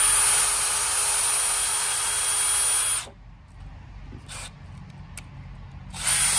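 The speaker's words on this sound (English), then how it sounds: "And you want to take a drill right here." A drill bores holes into wooden trellis boards, a loud, steady, high whine for about three seconds near the microphone, followed by quieter pauses and short bursts before it starts up again.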